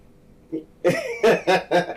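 A handful of short, rough coughs, roughly four or five, come in quick succession close to the listener, each burst sharp and separate.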